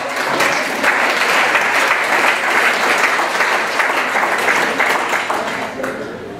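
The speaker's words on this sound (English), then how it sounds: "Big round of applause." An audience at an educational forum in an Elks Lodge hall gives a big, steady round of applause lasting several seconds before tailing off, with faint voices mixed in.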